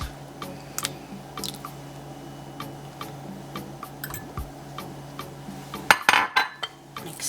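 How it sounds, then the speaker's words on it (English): Light clinks and taps of a utensil against a bowl while calamansi crinkle cookie dough is mixed, faint and irregular, then a louder burst of scraping and knocking near the end. "I'm going to be mixing after I add in each thing."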